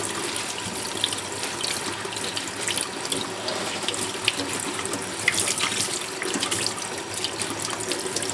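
Tap water runs in a steady, close splashing stream into a sink as freshly harvested Egyptian onions are rinsed, continuous and fairly loud throughout with no talk.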